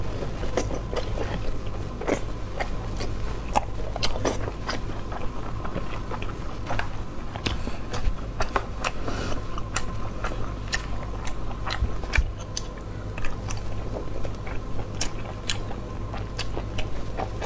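Close, steady mouth sounds of someone chewing stewed mushrooms and spicy noodles, with soft bites, wet squishes and small crunches repeating throughout, no talking.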